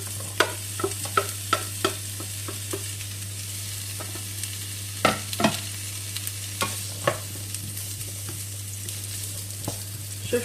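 Onion and garlic fry in a pan for a bolognese lasagne, giving a steady sizzle with a low hum underneath, broken by repeated scraping clicks of stirring close by, with no talk.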